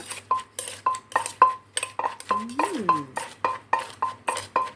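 Green papaya salad (som tam) pounded in a mortar with a pestle, a steady run of sharp knocking thuds, each with a bright clink, close and loud, with a brief voice-like tone partway through.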